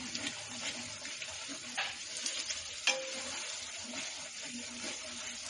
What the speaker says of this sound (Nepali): उक्त मसलालाई पनि हालेर हामीले केही बेर बिस्तारै चलाउँदै पकाउँछौँ